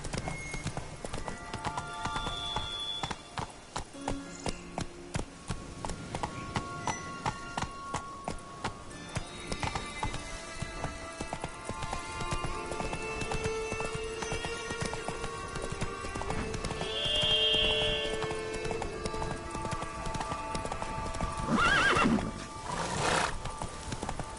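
Hooves of the horse Roach in The Witcher 3 drum in a steady galloping clip-clop, with a loud neigh rising near the end, set against game ambience and a brief spoken line.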